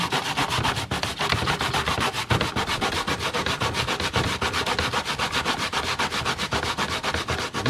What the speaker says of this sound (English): This is the grater. This is how they prepare it.